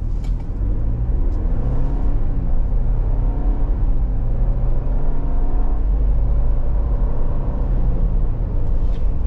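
A 2023 Ford Bronco Wildtrak with its EcoBoost V6 pulls away from a stop, giving a steady loud engine and road rumble that climbs gently with no talking over it.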